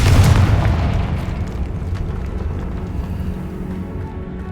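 Confringo spell explosion in Hogwarts Legacy: a sudden loud boom at the start, then a rumbling, decaying tail over several seconds.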